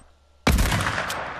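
A single loud rifle shot from a long-range headshot in a trick-shot video game, one sharp blast that cuts in and rings out with a sustained echoing tail.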